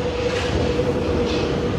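A train pulls into a Paris station with a steady, loud rumbling roar and rail noise that fills the whole short moment, with no talking over it.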